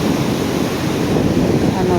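Large sea waves surge and roar without a break under a typhoon with monsoon winds, loud and close, with wind buffeting the microphone.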